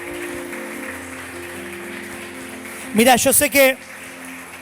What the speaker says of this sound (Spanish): ¿Qué te parece si le das un fuerte aplauso al Señor, al Rey de Reyes, Señor de señores?